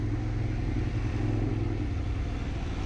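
A Benelli 752S motorcycle ridden through city streets, its engine giving a steady low rumble with road noise, close and continuous throughout, no voices.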